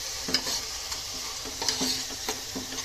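Green onion sautés in a pan for oats khichdi with moong dal and vegetables, a bright continuous sizzle with a few soft stirring scrapes, close up and without speech.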